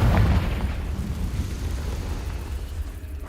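A Confringo blasting spell bursts in Hogwarts Legacy, a loud booming explosion with a sharp onset that rumbles and decays slowly over a few seconds, with no voices over it.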